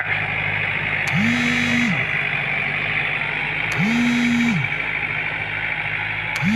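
A Yanmar 51 horsepower plowing tractor engine runs in a steady, dense drone. A rising tonal whine swells and drops away twice at regular intervals over the constant rumble.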